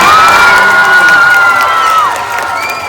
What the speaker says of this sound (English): Give me a loud cheer for all of these students out